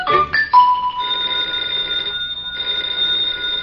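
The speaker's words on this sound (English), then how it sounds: "the telephone's ringing." An old-fashioned telephone bell rings in a furnished one-room apartment, sounding in steady sustained bursts with a brief pause between them, clear and fairly close.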